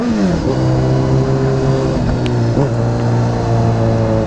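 A Honda CBR600RR motorcycle engine with a sensitive throttle, revving up and down in quick blips that rise and fall under a steady hum, close and loud with no talking.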